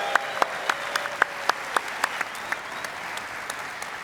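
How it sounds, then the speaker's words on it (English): Conference audience applause at a Bitcoin event: sparse, sharp individual claps ring out in a loose, uneven rhythm, thinning out toward the end. "please welcome them with a big round of applause."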